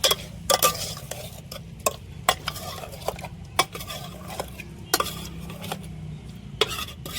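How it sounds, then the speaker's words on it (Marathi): Washed mutton stirred and sautéed in an onion and cumin tempering with turmeric, salt and oil, cooked outdoors over cow-dung cake fire: repeated sharp clanks and scrapes of a spoon against the pot over a low sizzle, close up. "आता कांद्याच्या फोडणीत आपल्याला आपण धुतलेलं मटण जे आहे ना ते सर्व टाकून घेऊ. सर्व साईडनं असं परतून घेऊ."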